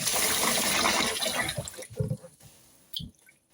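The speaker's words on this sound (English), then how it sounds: "put fresh cold water in" Cold water gushes steadily from a tap into a pot of basmati rice, then tapers off into a few splashes and drips.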